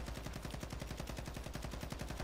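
Rapid automatic gunfire in the video game Call of Duty DMZ, a dense continuous burst of evenly spaced shots lasting the whole clip, loud and close with no talking.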